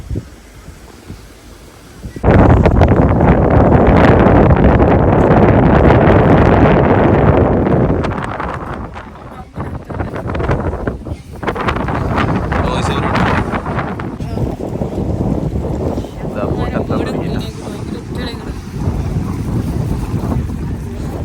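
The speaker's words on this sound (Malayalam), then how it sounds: "ബോട്ട് ഇവിടെ കൊണ്ടുവന്ന് നിർത്തിയിട്ടുണ്ട്" A boat arrives and docks with a sudden loud surge of engine and water noise that eases off, then continues as a rougher churning with wind buffeting the microphone; a voice speaks at times.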